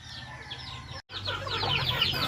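Chickens cluck at feeding time in a rural province yard, several birds calling in quick overlapping bursts close by, with a brief silent gap midway before the clucking resumes steadily.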